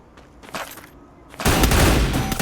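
Gunfire in the mobile battle game Free Fire: after a quiet stretch with faint clicks, a loud burst of rapid automatic fire erupts and keeps hammering continuously to the end, with no talk over it.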